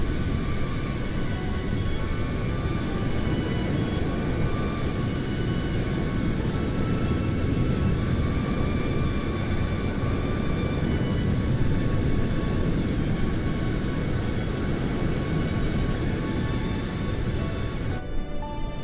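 A simulated aircraft in Microsoft Flight Simulator roars past in a flyby, a continuous loud broadband engine drone holding steady for the whole stretch before cutting off abruptly at the very end.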